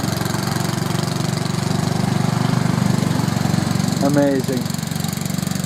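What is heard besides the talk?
tractor engine running with governor opening throttle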